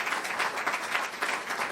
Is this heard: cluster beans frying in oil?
no